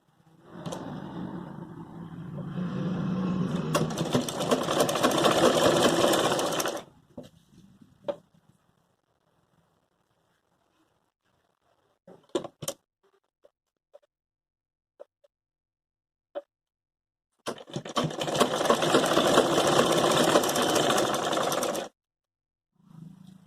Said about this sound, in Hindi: मैं यहाँ से इनको इस तरीके से रखते हुए मैं इस पर सिलाई लगा दूंगी।